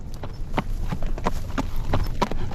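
Hooves clatter in a quick, uneven clip-clop rhythm, like reindeer prancing and pawing on a roof, a dozen or so sharp knocks close by over a low rumbling background.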